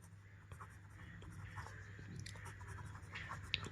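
Marker or chalk writing out a formula on a classroom board for a Class 10 arithmetic progression maths lesson, a steady run of soft scratchy strokes and taps with a faint low hum underneath.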